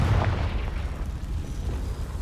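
A Confringo fire spell from the Hogwarts Legacy video game bursts into a heavy, low booming explosion right at the start, then rumbles on as a sustained dull roar.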